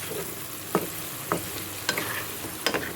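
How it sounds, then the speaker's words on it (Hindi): Chicken liver (kaleji) frying in oil in a pan, a steady soft sizzle with a few sharp clinks and scrapes of stirring spaced through it, close and moderately quiet with no talking. "जितनी मिकदार होगी कलेजी की उस हिसाब से तेल डालेंगे। अब ये फ्राई होंगे।"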